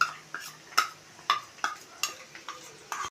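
A paste of mustard seed, poppy seed, garlic and green chilli goes into hot oil and is stirred. A steady run of sharp spoon-on-pan scrapes and clinks plays over a faint sizzle, with no voices.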